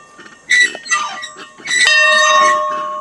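A metal bell on a disc golf course is struck after a birdie, with clanging strikes and then a bright ring that lingers and slowly fades. The bell is close and loud, with no talk.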